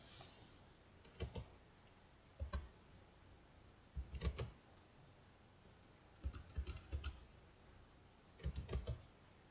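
Someone types on a computer keyboard in short, quiet bursts of clicks separated by pauses, close and alone in a quiet room.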